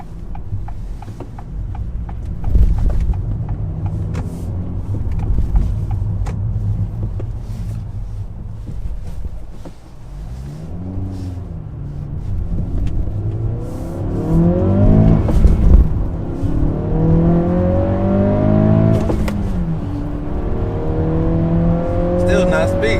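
An Acura Integra's engine climbs and drops in pitch through several rising revs as it accelerates on a highway, steady road and wind rumble underneath, loud and close from inside the car.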